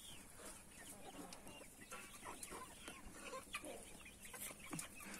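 Hens and roosters, some of them crested, cluck continuously at a farm, several birds at moderate distance with steady background noise and no talking.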